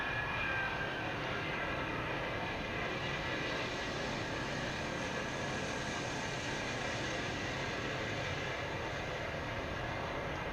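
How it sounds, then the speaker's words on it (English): An Airbus A380 makes a late go-around in strong winds at Heathrow, its jet engines a loud, continuous roar with wind rush, sustained and steady throughout. "This Airbus A380 did a late go-around in strong winds at Heathrow"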